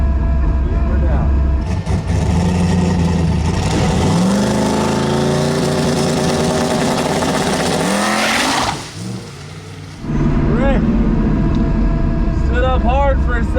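A drag race car launches hard and tries to wheelie: a loud, close engine roar rises in pitch over several seconds, drops off abruptly, then returns as revving with tire chirps, under talk.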